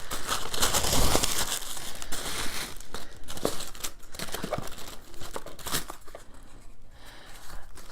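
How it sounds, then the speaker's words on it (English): Paper crinkling and tearing as packing paper is peeled back inside a November 2018 Jeweled By Jupiter jewelry subscription box, a continuous close rustle with louder crumpling bursts and no talking. "So we will peel back some paper."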